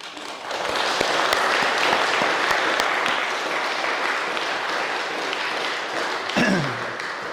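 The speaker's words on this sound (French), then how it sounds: "Et je pense qu'on peut les applaudir." A crowd applauds steadily for several seconds at the inauguration speeches of a renovated temple, a dense wash of clapping that holds level before tapering off at the end.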